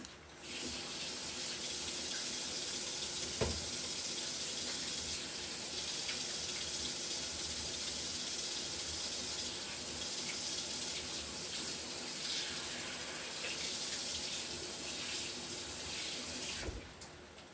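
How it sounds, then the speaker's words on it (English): Hands are washed under a running kitchen tap: a steady rushing stream splashes into the sink for most of the stretch, faint and continuous, with a sharp clunk near the start and another at the end as the flow stops. "Wash my hands."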